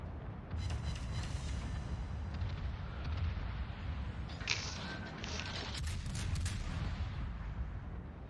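Cruiser guns fire rapid salvos that slam into an enemy ship's citadel in a naval combat game, several booming impacts and crackling hits over a steady low rumble of engine and sea.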